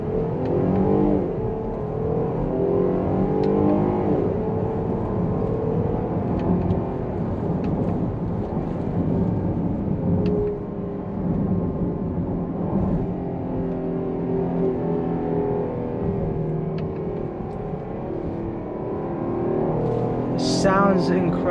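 A 2021 Jeep Grand Cherokee L engine pulls through a long acceleration, its loud, rising drone heard from inside the cabin, sustained and swelling with shifting tone, with faint talk underneath.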